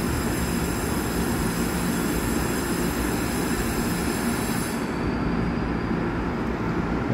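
A Taiwan Railway EMU commuter train on the Yilan line rumbles steadily with a loud, continuous rolling roar and high whine that cuts off abruptly near the end.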